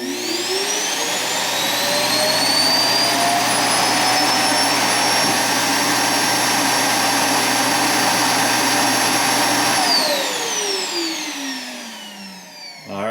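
An iRobot Roomba S9+ self-empty base evacuates the robot's bin with a loud, steady vacuum roar and a high whine that builds over the first seconds, holds for about ten seconds, then winds down and fades.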